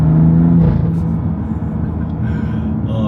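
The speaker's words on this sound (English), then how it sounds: "This car sounds great. It has a full titanium catback exhaust." BMW M2 with a full titanium catback exhaust, giving a deep, loud engine rumble that holds a steady low note before easing into a lower idle-like drone.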